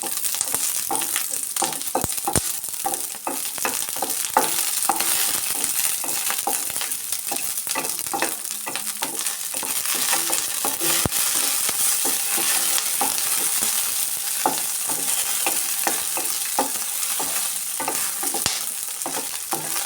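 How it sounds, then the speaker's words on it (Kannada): Green chillies frying in oil for idli chutney, giving a continuous crackling sizzle with sharp spattering pops scattered throughout and occasional stirring scrapes, close and steady with no voices. "ಈ ಥರ ಫ್ರೈ ಮಾಡ್ಕೊಬೇಕು ಆಯಿಲಲ್ಲಿ"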